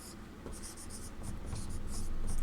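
Pen writing on paper in a Sanskrit lesson, a steady close scratching with short repeated strokes, soft and continuous, no voices.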